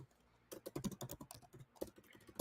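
Fingers type on a computer keyboard while an email is composed in Gmail, producing quiet, rapid clicking keystrokes in uneven bursts with brief pauses between them.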